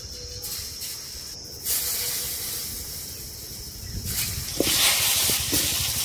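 Potatoes fry in hot oil in a wok as salt is sprinkled over them, making a continuous close sizzling hiss that swells louder midway, with a few small clicks near the end and no talking.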